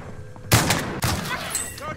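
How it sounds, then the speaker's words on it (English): Gunfire in the video game Call of Duty Warzone, two loud close bursts of shots about half a second apart, each trailing into a rattling decay. "I hear shots."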